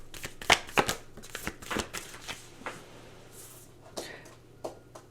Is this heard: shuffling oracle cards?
yes